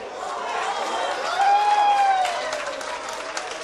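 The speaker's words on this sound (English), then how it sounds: "The crowd is going crazy with every shot that this guy makes." A live audience at a 9-ball pool semifinal featuring Efren Reyes bursts into applause after a shot. The clapping and cheering swell to a peak midway, then taper, with a voice briefly audible over the crowd.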